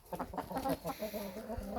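Chickens clucking close by in a busy, overlapping chorus, with soft scratching and pecking sounds underneath.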